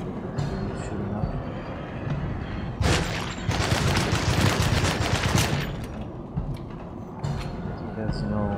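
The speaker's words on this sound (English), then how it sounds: "Okay, he's shooting up." Gunshots in the horror game Alone in the Dark come as a dense, rattling barrage that swells midway and then thins to scattered reports, with someone talking over parts of it.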